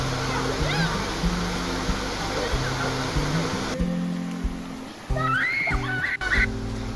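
Waterfall at Ngare Ndare in the foothills of Mt Kenya pounding into an icy pool, a loud continuous roar and splash throughout, with voices and a brief shift in the texture of the rushing water partway through.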